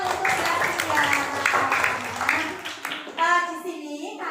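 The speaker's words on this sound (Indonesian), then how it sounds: "Beri tepuk tangan untuk Mbak Tia." Clapping from a classroom of children applauding a classmate at school, a dense patter mixed with young voices calling out, fairly close and steady, then tapering off near the end as someone speaks.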